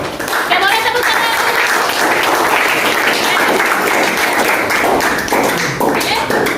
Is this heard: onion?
no